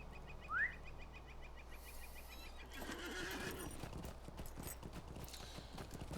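A horse in the game Lord of the Rings Online gives one short whinny, then its hooves clip-clop in a steady rhythm, quiet over faint birdsong.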